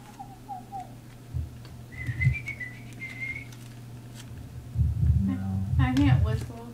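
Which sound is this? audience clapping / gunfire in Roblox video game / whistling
whistling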